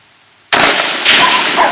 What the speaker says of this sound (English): How many more do you want to shoot at these?